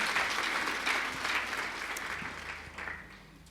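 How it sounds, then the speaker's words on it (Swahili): A church congregation claps their hands during a Sunday service, a fairly quiet but steady spread of applause that gradually tapers toward the end. "makofi"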